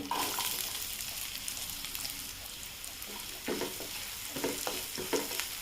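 Onion fries in oil over low heat for a dahi bhindi dish, giving a steady, soft sizzle with scraping stirs of a spoon in the pan breaking through now and then.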